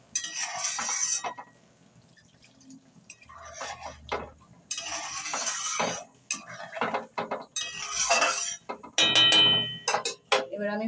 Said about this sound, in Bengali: ঝোলটা একটু ফুটে গেছে, আমি পনিরটাকে দিয়ে দিলাম গ্রেভির মধ্যে।